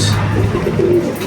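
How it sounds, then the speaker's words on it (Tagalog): Pigeons coo softly with a low, murmuring call over a steady background hum, close by and alone, without talk. "Ayan, mga ibon natin."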